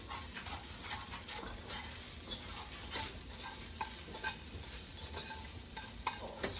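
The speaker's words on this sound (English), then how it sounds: "And another stir." Carrot, garlic and ginger are stirred in a sizzling pan. A steady fry hiss runs throughout, with soft scrapes and clinks at close range, and no one speaks.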